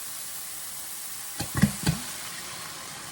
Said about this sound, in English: Then I'll add the tomato sauce.